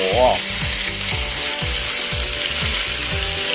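Beef for a crying-tiger dish frying in a brand-new pan over high heat, giving a loud, continuous sizzle with spattering fat and a steady rhythmic undertone throughout, no voices.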